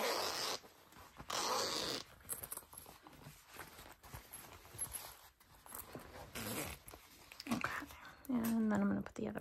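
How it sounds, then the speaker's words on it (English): Zipper pulls being fitted onto a handbag zipper during sewing, giving short scratchy zipping bursts and small handling clicks, with quiet talk in between. "I'm going to put both of my zipper pulls on before I trim down my zipper."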